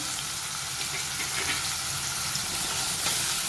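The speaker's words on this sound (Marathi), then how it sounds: "थोडीशी अशी ही डाळ आपल्याला तेलामध्ये परतून घ्यायची" Soaked chana dal sizzles and crackles as it fries in hot oil in a pan, a steady, close, dense hiss that carries on without a break.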